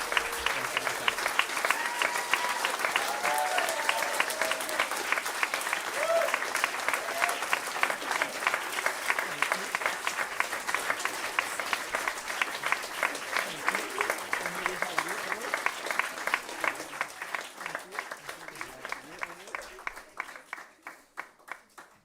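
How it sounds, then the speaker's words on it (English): Sustained audience applause at an award ceremony during a teaching and learning conference, steady dense clapping from a sizeable crowd that continues for over twenty seconds and thins slightly toward the end. "give them a huge round of applause while they come up here"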